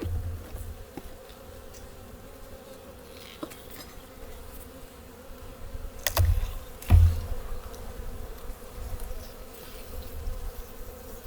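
Honey bees buzz softly inside a backyard beehive that has dwindled to only a few frames, a faint continuous hum with scattered light clicks and two brief louder knocks from handling the hive.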